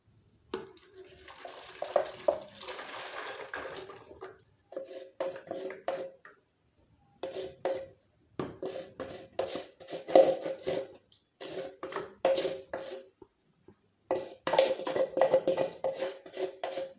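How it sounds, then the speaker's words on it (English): White cement mixture is poured into a plant pot mold, giving intermittent wet splashing and trickling bursts with short gaps between them, close and fairly quiet, with no talk. "We're going to pour this white cement mixture into that mold."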